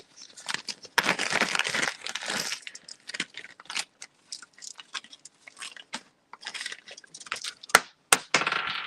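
Large check glass beads in a rose quartz color, about 15.5 millimeters, clicking and rattling against each other as they are handled, in irregular bursts of sharp clacks with quieter pauses between.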